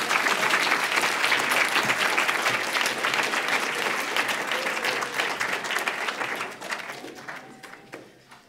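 Audience applause for speaker Mark Trammell at a live college event, dense and loud at first, then thinning and fading toward the end.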